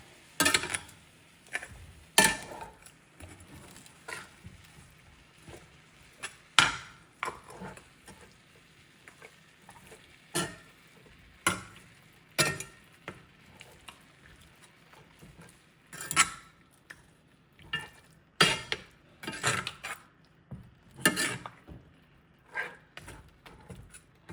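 Food being stirred and mixed in a pot while cooking, with scattered clinks and scrapes of a utensil against cookware at irregular intervals, fairly quiet and close, with a faint sizzle underneath.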